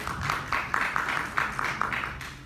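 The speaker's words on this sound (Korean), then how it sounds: "박수로 맞이해 주시기 바랍니다." Audience applause welcoming a speaker at a smart factory and intellectual property seminar, steady rhythmic clapping from a small crowd at moderate level.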